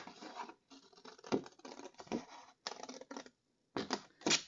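Card paper being trimmed with scissors along pencil lines, giving close, soft crisp snips and scratchy paper rustles in short bursts separated by brief pauses.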